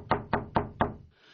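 Four sharp, evenly spaced knocks on a door late at night ring out close and loud with no other sound, then fade into quiet room tone.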